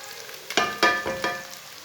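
Ginger, garlic and browned onions fry in a pan with a soft steady sizzle, punctuated by three sharp stirring or scraping strokes, close and alone.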